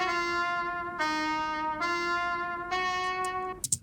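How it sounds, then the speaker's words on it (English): A brassy trumpet melody in a hip-hop beat plays sustained notes that shift pitch every second or so, steady and clear, ending with a few quick percussive hits. "A little trumpet thing, horn thing"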